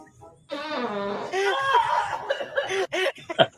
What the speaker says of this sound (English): Yeah, they're farting.